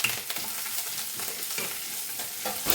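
Ginger frying in coconut oil is stirred in a pan for an okra masala curry, close crackling sizzle with rhythmic scraping strokes of the spoon, no voices.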